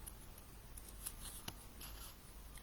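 Scissors trimming paper along printed lines during fussy-cut papercraft: faint, close, soft snips and rustling, with a few small cutting clicks spaced irregularly.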